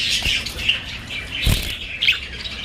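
A pair of budgerigars in an aviary chirp in short, bright bursts, with a brief flutter of wings between the calls, fairly close and with no voices.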